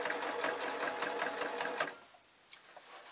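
A domestic sewing machine stitching an art quilt binding whirs steadily and close with a fast mechanical rattle for about two seconds, then stops, leaving a faint room hush as the bobbin runs low.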